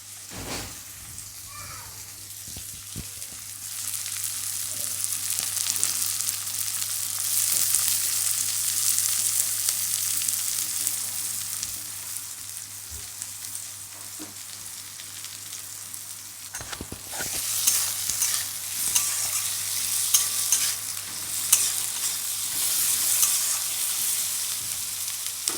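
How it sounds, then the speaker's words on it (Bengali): Onions fry in a hot wok for a stuffing masala, giving a continuous bright sizzle that swells and settles with occasional stirring scrapes. "এখন আমি পেঁয়াজগুলো দিচ্ছি, ভাজবো পেঁয়াজগুলোকে"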